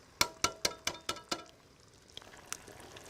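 Thick Malaysian egg curry sauce, masak lemak telur, bubbling in a pot as an egg goes in: a quiet run of about six evenly spaced sharp pops, then a few scattered softer blips.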